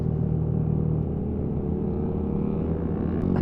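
Many motorcycles on a 27-bike group ride, a loud continuous engine drone and rumble from the pack rolling together, steady with wind noise and no talk.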